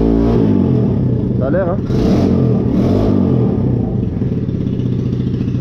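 A cheap buggy's engine runs and revs loudly and steadily throughout, with a brief rising rev near the start, under a short spoken remark.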